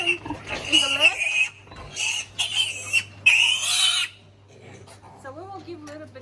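Pigs on a working pig farm grunt and squeal in several loud bursts close by, followed by quieter, scattered grunts over a low steady hum.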